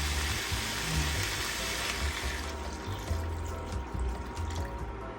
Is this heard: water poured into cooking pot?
yes